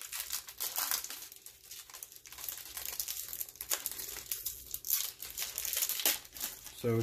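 A foil trading card booster pack for a Yu-Gi-Oh Duel Power set is torn and crinkled open, a close, steady run of crackling and ripping with sharper tears near the end.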